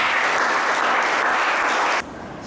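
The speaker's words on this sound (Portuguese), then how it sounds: "Vamos aplaudir ao Senhor." Church congregation applauding together at the close of a sermon, a dense steady wash of clapping that drops to a softer level near the end.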